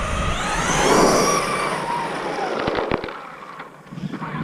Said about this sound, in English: there she is, the full power of the 4300KV motor on the Bugsta